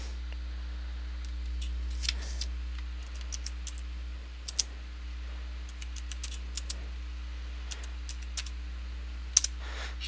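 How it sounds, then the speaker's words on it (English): Typing on a computer keyboard gives light, irregular clicks, faint and close, over a steady low electrical hum with no talking. "what you would do is you would type it in here"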